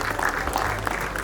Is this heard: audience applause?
yes